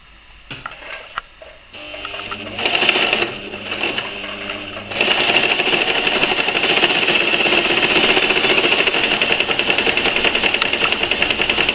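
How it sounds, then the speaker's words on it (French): A sewing machine stitches through four stacked fabric face-mask pieces. It starts in short bursts, then runs as a loud, steady, rapid mechanical whir with no talking. "je les ai mis l'un sur l'autre pour pouvoir les coudre tout le long. Et on va passer à la couture."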